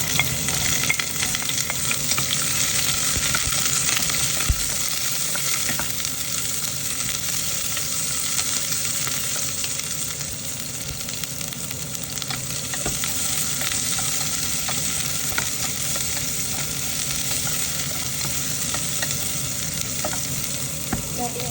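Onion sautéing in hot oil for chicken tinola, a steady, loud sizzle and crackle that continues throughout with no voices.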